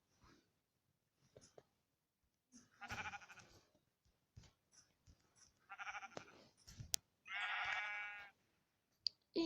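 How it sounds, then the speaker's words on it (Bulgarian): Sheep in a video game bleating in several short bursts, with quiet whispered talk and breathing between them. "Но сега ще отидем да убием онази овца там"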